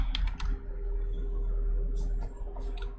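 Someone types on a computer keyboard, with a short burst of clicking keystrokes at the start and another cluster near the end, close up over a steady low hum.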